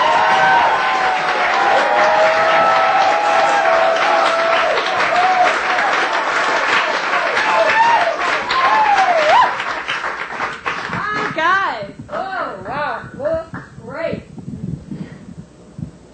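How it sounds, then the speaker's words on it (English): A stand-up comedy audience breaks into sustained loud applause with clapping and some cheering, gradually thinning out as a voice begins speaking near the end. "we want you to really give a big round of applause"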